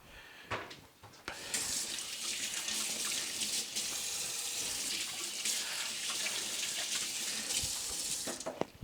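Tap water runs steadily into a sink for several seconds as hands are washed, a broad hissing splash that starts after a few faint knocks and stays constant until the flow stops near the end.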